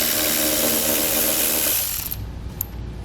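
A ratchet with a 10mm socket loosens the battery post nuts on a 2018 Jeep Wrangler JK, giving a close, continuous run of rapid clicking that stops abruptly partway through.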